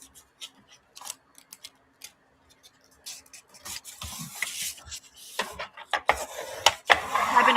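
Scored paper being folded by hand for a junk journal: soft rubs, creases and crinkles, sparse at first, then denser and louder with scraping brushes near the end, all close by.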